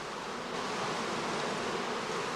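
Honey bees buzzing at a hive during a beekeeper's summer inspection, a dense, steady drone of many wings close by, continuous and unbroken.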